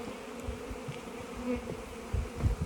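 Honey bees from a weak colony buzz in a continuous close drone around an open hive, with occasional louder passes and no talk.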